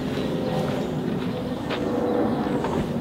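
Low, continuous rumbling drone of an airplane flying overhead, moderately faint and steady, with a few brief rustles and clicks on top and no speech.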